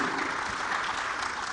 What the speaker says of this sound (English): ladies and gentlemen, yes, another round of applause